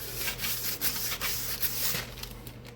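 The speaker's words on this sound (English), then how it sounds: "But you remove the balsa a heck of a lot faster." Sandpaper rubbing across a balsa wood model plane fuselage in steady back-and-forth strokes, a close, soft scratchy hiss with no talking.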